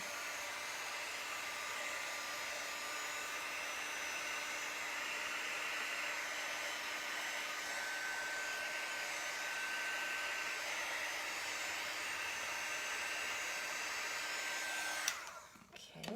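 A hair dryer blows in a long, steady, even whir close by, holding constant for about fifteen seconds before cutting off abruptly near the end.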